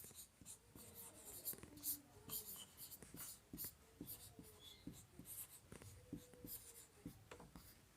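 Chalk or marker scratching across a board as a physics problem is written out, with quick irregular strokes and taps close by, faint against a soft background.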